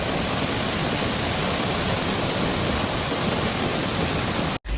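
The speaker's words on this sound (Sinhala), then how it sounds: "මට අනුව නම් මේක තමයි මෙතන තිබ්බ ලස්සනම දියැල්ල." Brahmana Ella waterfall at Lankagama in Sri Lanka roars as a dense, steady wash of falling water, loud and close, with no voices, cutting off abruptly just before the end.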